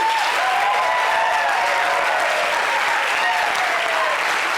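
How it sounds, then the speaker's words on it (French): A television studio audience applauds loudly and continuously, a dense close wash of clapping with a faint crowd murmur running underneath. "Ben, applaudissez-vous tout simplement."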